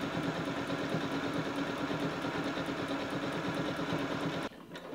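A sewing machine stitching coiled rope into a bowl runs in a steady, fast mechanical whir with rhythmic needle ticks, then stops abruptly near the end.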